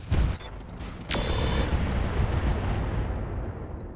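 Mech weapons fire in a BattleTech video game, two heavy booming blasts about a second apart, each followed by a long rumbling decay and faint mechanical clicks, loud and close with no talk.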